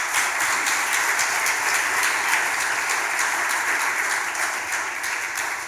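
Steady applause from a large church congregation, dense clapping sustained evenly throughout without a break.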